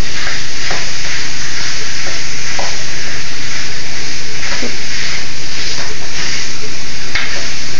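Seasoned turkey stuffing sautéing in a very hot pan at 400 degrees, a loud continuous sizzle and hiss with scraping stir strokes throughout, close up.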